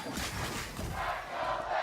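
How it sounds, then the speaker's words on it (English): At an LCS esports match between TSM and Team Liquid, an arena crowd cheers and roars in a broad, continuous wash of noise with no distinct voices. "the crowd is all about it"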